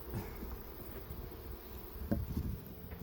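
Honey bees buzz around a beehive, a dense and steady drone heard close, with a few brief knocks and rustles from handling the hive.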